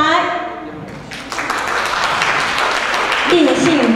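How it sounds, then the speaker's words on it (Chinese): Guests at an association president handover ceremony break into applause that builds into a steady clatter of clapping in a hall. Voices are heard at the start and near the end. "请各位来宾以最热烈掌声欢迎总会长上台"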